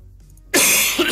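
After a brief near-silence, a single loud, harsh cough bursts out close by, followed by a second smaller cough.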